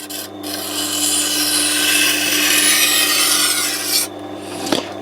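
A kitchen knife is ground on a Tormek T8 sharpener with a coarse grind, a close, continuous abrasive rasp over a low machine hum that stops briefly near the end.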